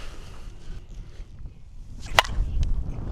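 A single sharp crack of a USSSA slowpitch bat striking a softball near the barrel's sweet spot, loud and close, after a stretch of low background rumble, with a faint second knock shortly after.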